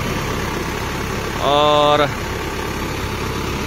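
A Case 175-horsepower 4x4 tractor idles on a farm in Australia with a steady, loud, even engine drone throughout, while a voice briefly speaks over it.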